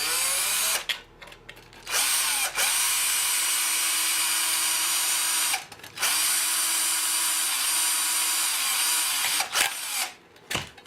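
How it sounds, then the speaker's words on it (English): A small power drill with a 3mm bit bores a pilot hole through a tin, whining loudly and steadily in long runs broken by short pauses, close and alone. "I'm just using a small sort of 3mm drill bit to get a pilot hole"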